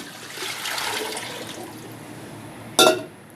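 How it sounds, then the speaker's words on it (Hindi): Water poured into a pot of mixed lentils for dhaba-style mixed dal, a soft trickling pour early on, then a brief loud splash near the end, alone with no talk. "इसमें मैं 1 किलो पानी डालूँगी।"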